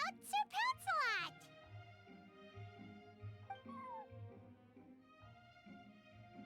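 A cat named Sir Pouncelot in Genshin Impact gives several short, high meows close by near the start, then quieter cries come and go under a voice talking over game music.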